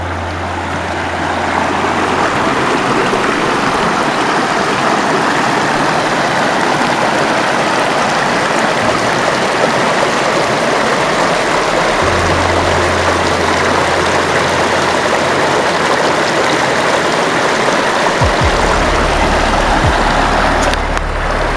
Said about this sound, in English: It's hard to leave places like this when you're just sitting down and listening to the water